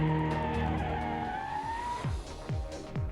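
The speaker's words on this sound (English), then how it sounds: "We have to do 60 to 0 braking, we have to do 0 to 60 acceleration, double lane change through the long course" A car brakes hard on a test course during a 60-to-0 stop, its tires squealing loudly in a long, steady screech, then breaking into several shorter skidding chirps as it slows.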